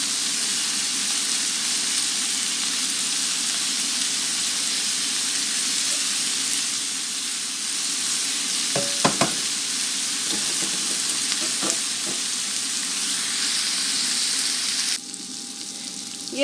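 A fish fillet fries on a tawa with a steady, loud sizzle and crackle throughout, a few sharp clinks of a spatula partway through, and the hiss dropping slightly at the end.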